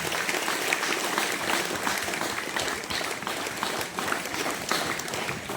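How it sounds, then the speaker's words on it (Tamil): An audience at a school debate event gives Tamil teachers a loud, steady round of applause, with dense clapping that holds evenly from start to finish. "ஒரு மிகப்பெரிய பலத்த கரவொலியோடு அவர்களை நான் பாராட்டுவேன்"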